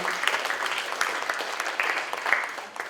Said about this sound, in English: can you please have a round of applause for the people who worked day and night to make this tournament happen